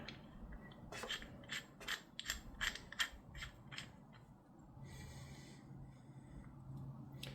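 A crescent wrench tightening a fitting on a Generac XG10000E generator carburetor, a run of sharp metallic clicks and ratcheting scrapes in quick bursts, then quieter handling noise, close and fairly soft.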